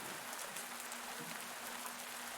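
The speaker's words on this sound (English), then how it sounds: "the rain obviously helped" Rain falling in the farming video game Pumpkin Days, a soft, steady hiss of drops on surfaces, quiet and continuous throughout.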